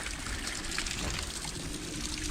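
Water flows across a trail near an old mine in a soft, continuous trickle. It is quiet and steady, with no talking.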